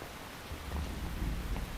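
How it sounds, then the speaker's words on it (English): Dense rain hisses steadily while low rumbling thunder rolls underneath, a continuous storm wash with no voices, from a Metal Gear Solid 3: Snake Eater cutscene. "You can entertain me until the rain stops."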